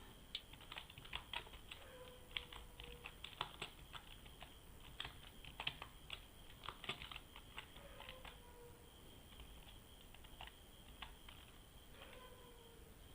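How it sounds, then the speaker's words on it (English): Light, steady typing on a computer keyboard, entering a coffee shop name with a text tool in design software; soft, irregular keystroke clicks continue throughout at a low, close level with no talk. "By using text tool, let us type the name of coffee shop there."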